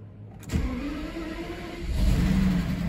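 A Mercedes W140 engine cranks and catches after a short whir, then settles into a steady mid-pitched idle that swells slightly, heard close with no speech.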